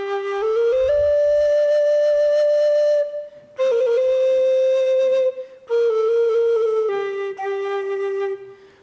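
A block flute, or recorder, plays sustained clear tones in three phrases, the pitch bending slightly between notes, with short pauses in between and no voices.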